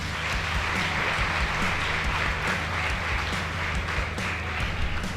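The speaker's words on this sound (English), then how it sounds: "So a round of applause for both teams," Steady, dense applause from an audience fills the whole stretch at a school debate competition, honouring both the Karima Girls and St. Mary's Boys teams, loud and continuous with no talk over it.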